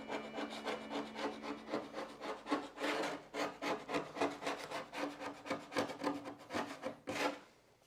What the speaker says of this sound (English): maybe I will actually do some sanding, like on this panel